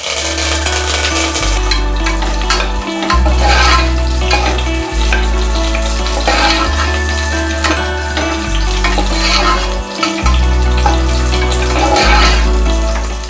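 Curry leaves and small onions stirred and frying in a pan for Tirunelveli kootanchoru, a steady loud sizzle with repeated scraping stirs throughout and no talking.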